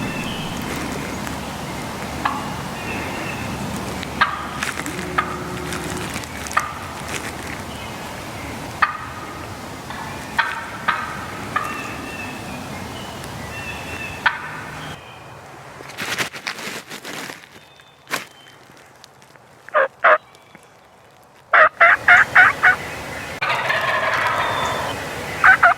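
A young wild turkey jake gobbles during a turkey hunt, the calls coming in bursts through a long outdoor stretch with intermittent rustling and sharp knocks, some near and some farther off.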